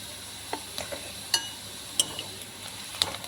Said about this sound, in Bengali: ডালের ফোড়নটাকে ভালোভাবে ভেজে নিলাম।